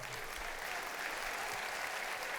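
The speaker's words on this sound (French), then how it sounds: "Oui, on peut applaudir" An audience at an awards ceremony in a large theatre applauds, a dense, even wash of clapping that holds steady and fairly loud for the whole short span.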